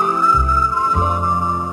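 Whistling in a Hungarian pop song, a clear melodic whistle line with sustained notes over a backing of bass and accompaniment, loud and alone without singing.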